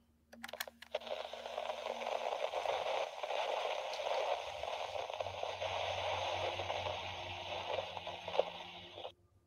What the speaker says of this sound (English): The box generates white noise and cycles through random frequencies very quickly.